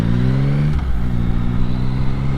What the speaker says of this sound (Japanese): 法定速度乗るぐらいまでは、ずっと強烈な加速をしてますね。